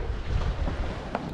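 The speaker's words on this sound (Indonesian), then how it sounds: "Oh, angin tu." Strong stormy wind roars at sea beside a boat near an island bridge, a brief, loud, rough gust buffeting the microphone with broad rumbling noise and no talk.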